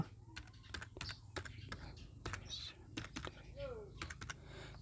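Rapid keyboard typing in irregular bursts of clicks, close and fairly loud, over a low steady hum with faint background noise.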